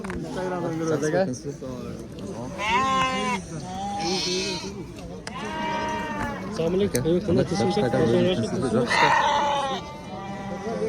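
Sheep and lambs bleat repeatedly in wavering calls, several animals overlapping, with people talking throughout.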